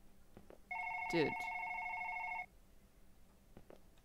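Phone ringing in the One Late Night game, a single sustained electronic ring tone lasting under two seconds, with a brief spoken word over its start and quiet footsteps around it.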